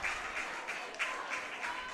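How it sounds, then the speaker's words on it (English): Crowd applause at a high school baseball game, South vs Metro South, after a runner is thrown out at second; steady broadband clapping from the stands fills the short stretch without pause. "Stay on the field and take your applause"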